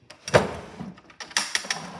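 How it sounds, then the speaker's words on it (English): A drawer in a house being decluttered is pulled open, giving a few quick close wooden knocks and slides with a sharp clack near the end, all fairly quiet and without speech. "Now let's get into this drawer right here."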